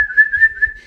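A person whistles a single sustained high tone with slight wavering pitch, imitating a dolphin's whistle, close and clear over faint low rumble.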